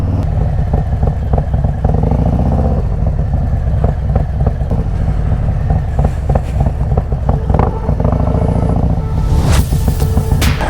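A Harley-Davidson Road Glide motorcycle engine running close by, a loud, steady low rumbling idle with a throbbing, uneven lope and a brief rise near the end.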